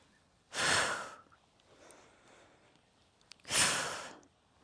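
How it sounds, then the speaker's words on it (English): Slow, deliberate breaths during an advanced Pilates mat workout: a long airy inhale, a quieter stretch of soft breathing, then another long exhale, close and alone with no talk. "Inhale. And exhale."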